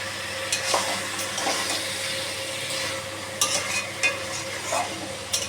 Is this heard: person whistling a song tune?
no